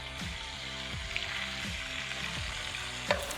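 Fish frying in oil in a pan at a beach cookout, a steady low sizzle running throughout with a few soft clinks and scrapes, no talk.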